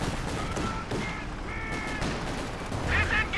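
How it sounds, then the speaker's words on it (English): Heavy gunfire and explosive tank cannon impacts from a World War II strategy game, a Cromwell tank firing on a German Puma armoured car, dense and continuous with bursts throughout and a sharper crack near the end. "The Puma's taking Cromwell fire."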